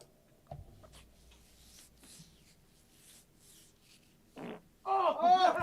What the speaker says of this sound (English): the fart track just made up for everything